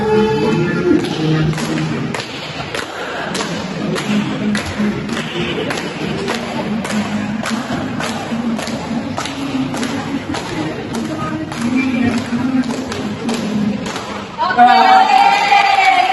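Group applause for a middle-aged man after he introduces himself in a group activity therapy session, a steady patter of clapping hands lasting many seconds, with a voice starting to speak near the end.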